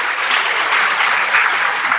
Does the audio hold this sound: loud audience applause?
yes